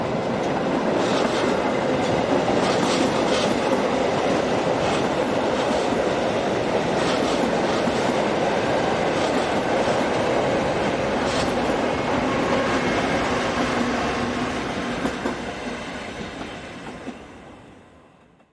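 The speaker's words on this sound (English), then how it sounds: "number 612 gets the 1458 departure for Pontresina underway" Swiss private railway train number 612 departing for Pontresina, a continuous heavy rumble of wheels and carriages with rhythmic clickety-clack over rail joints, loud and close, then fading away near the end.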